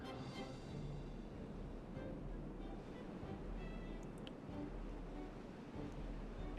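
Water rushes steadily into a dug reservoir in a video game, a continuous, even wash of flowing water that holds at a constant level throughout with no talk.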